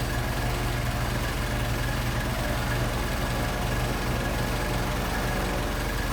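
A Mercedes 190SL engine idles on Solex 44PHH carburetors, a steady close low rumble with an even, continuous drone and no talking over it.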